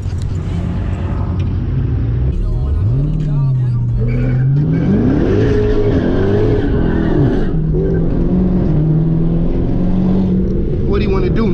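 A track car revs hard and skids at a street sideshow, the engine pitch climbing and falling in long swoops over loud, constant crowd noise and shouting voices nearby.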